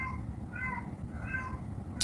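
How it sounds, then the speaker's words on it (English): An unhappy, neglected pet cat gives several drawn-out, plaintive meows over a steady low room hum, fairly faint and heard from a short distance. "That does not sound like a happy cat."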